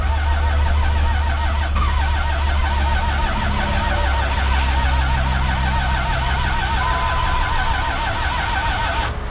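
A 12 valve Cummins diesel in a hotshot truck idles steadily after starting, a loud, close, continuous rumble with a rhythmic mechanical clatter running throughout, no talking.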